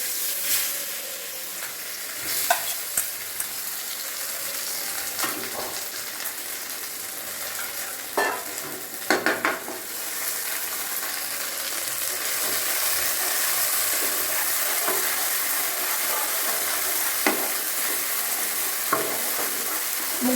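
Dried red chili pieces and washed fried mung dal frying in a pan, a steady close sizzle with scattered stirring scrapes and clicks throughout, no talking.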